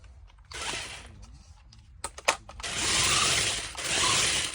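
A remote-controlled toy car with eight tires drives over carpet, its small motor whirring in several separate bursts, with light clicks and rattles between them, fairly close.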